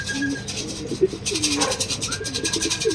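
A racing pigeon coos softly as it enters the loft during club training, low repeated coos over a busy, rustling background with faint voices nearby.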